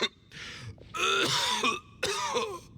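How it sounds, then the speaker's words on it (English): A video game character coughing and clearing his throat: three harsh, raspy bursts, each rattling and strained, separated by short gaps, close and clear with no other sound. "Why is he coughing so much?"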